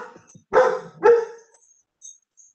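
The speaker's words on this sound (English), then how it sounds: "With a dog in the background" A dog barks twice in the background of an indoor board meeting, two loud, close barks about half a second apart, followed by near silence.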